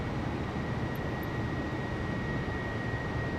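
An airliner's engines roar at takeoff power in Microsoft Flight Simulator, a steady, full broadband drone with a thin constant whine above it.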